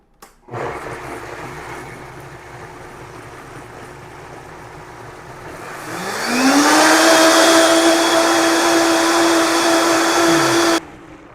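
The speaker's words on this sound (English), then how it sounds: "I'm just going to cut the video so you don't have to just watch the blender mixing." A countertop blender mixing pumpkin protein cake batter starts at a lower motor whine, then jumps to a loud high-speed roar that rises in pitch before cutting off abruptly.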